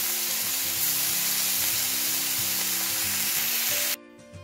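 Dense, steady sizzling of mushrooms frying in a pan, with soft stirring scrapes, ending abruptly.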